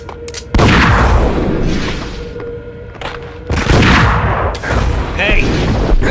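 Heavy gunfire in the video game Max Payne, two long roaring volleys of rapid booming shots, loud and close, with a brief lull between and a shouted voice breaking through.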